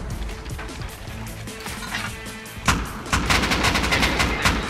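Rifle gunfire crackles in the online game Rust during a rooftop raid, a few scattered shots at first and then a dense rapid burst of repeated cracks near the end.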